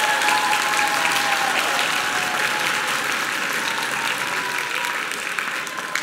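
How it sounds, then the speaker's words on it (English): Audience applause at an orchestra winter concert: dense, steady clapping from a full crowd, sustained for several seconds and slowly tapering toward the end. "Let's give him a round of applause."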